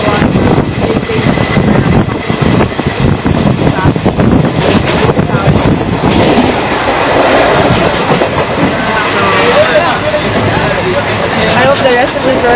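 A train runs past a station with a loud, continuous rumble and clickety-clack rhythm of wheels over the rails, heard close and steady throughout.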